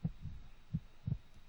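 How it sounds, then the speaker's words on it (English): Video game heartbeat effect: three low, soft thumping beats, the last a quick double thud, pulsing through a quiet background with no other sounds. "You momentarily see red and hear the sound of your heartbeat in your ears."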